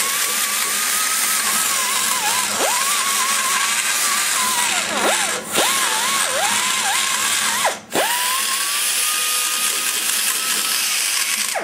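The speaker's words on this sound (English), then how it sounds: "Now the stones will come in here and really level this out really well." A high-speed die grinder with a grinding stone ports a 1989 Chevy 350 TBI cylinder head, its loud steady whine dipping briefly several times as the stone bites into the metal, close and continuous.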